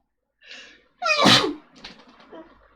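A single sharp human sneeze bursts out after a short breathy intake, followed by faint rustling and light breath sounds nearby, with no speech.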